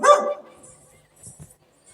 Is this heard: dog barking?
yes